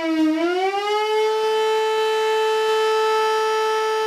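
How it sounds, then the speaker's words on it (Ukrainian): A civil defense siren sounds at a chemical plant during an emergency drill, a loud steady wail that rises in pitch at the start and then holds one sustained tone, with no voices. "Звуки сирени чути за кілька кілометрів."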